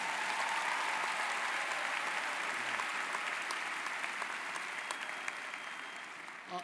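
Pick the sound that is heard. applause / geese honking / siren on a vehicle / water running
applause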